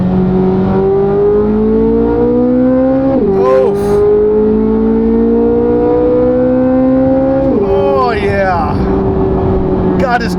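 A C8 Corvette Z06's engine revs hard while driving, a loud, rising harmonic wail that climbs steadily, dips briefly at two gear changes near three and seven and a half seconds, then climbs again, with faint talk underneath.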